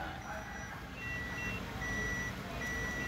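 A car's reversing warning beeps from an Orca ADR 9988 seven-inch CarPlay head unit with reverse camera: a steady series of high electronic tones over a constant engine hum inside the cabin, no talking.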